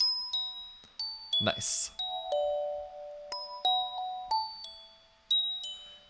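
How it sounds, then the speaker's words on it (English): Bells in an Ableton mix ring out in a series of bright, sustained chimes with decaying tails and a short noisy burst early on, while a voice speaks briefly. "So we've got these bells we can see are happening. We've got a lot of fundamental frequency and some harmonics."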